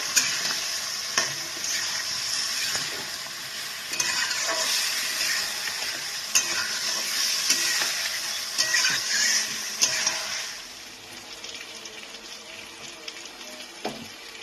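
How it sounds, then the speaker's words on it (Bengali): Spices frying with flat beans and potatoes in a pan, a steady close sizzle broken by repeated scraping stirs, with no voice over it, fading quieter after about ten seconds. "এই মশলাটাকে আমি এবার ভালো করে একটু কষিয়ে নেব সিম আর আলুটার সাথে।"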